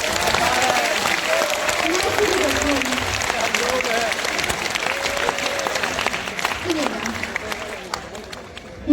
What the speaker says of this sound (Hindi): सभी लोग अपना एक हाथ ऊपर करें और दूसरा हाथ भी ऊपर करें और जोरदार तालियां बजाएं।